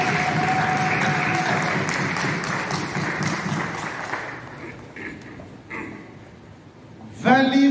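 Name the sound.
audience applauding to acclaim the Lord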